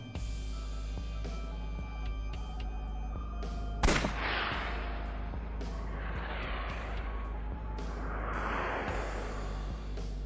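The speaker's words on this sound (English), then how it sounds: "Can we use the bullets we found earlier? This could work. I'll try shooting it." Gunshots from a revolver in Final Fantasy XIV, one sharp loud blast near the middle followed by echoing bursts over a steady droning game backdrop, with no talk.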